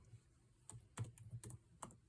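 Computer keyboard keys tapped in a quick, uneven run of several soft clicks, close by and fairly quiet, with no voices over them.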